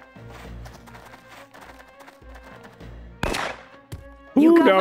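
Gunfire in the tactical game Jagged Alliance 2 comes as a series of soft, low popping shots, followed by a sharper burst near the end and a brief voice at the close.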